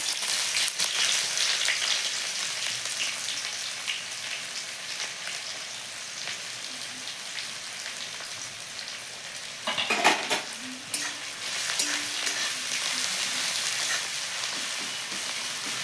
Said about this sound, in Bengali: এদিকে পেঁয়াজটা ভাজা হতে থাকুক